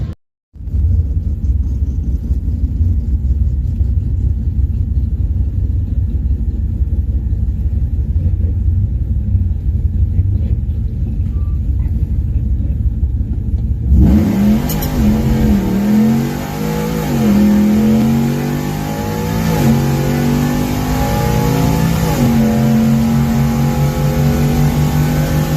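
A supercharged Whipple-equipped Ram truck on a drag strip pass: a deep idling rumble, then a loud launch halfway through into hard revving and rising engine roar through several gear changes, close and dominant.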